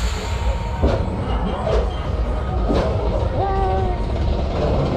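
A gray roller coaster train on Comet at the Walygator amusement park rolls into the station with a steady rumbling clatter, a few clunks and a brief tonal beep-like chime near the end, under faint crowd noise.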